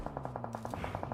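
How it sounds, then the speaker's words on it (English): Rapid automatic gunfire in an esports video game match, about eleven evenly spaced shots in a quick burst, sharp and steady with no voices. "Gunfire."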